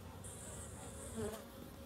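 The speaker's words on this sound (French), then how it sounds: "ici, là, on a donc des abeilles récupérées l'année dernière" Close, continuous buzzing of honeybees humming steadily around hives in an apiary in January, with a faint background murmur.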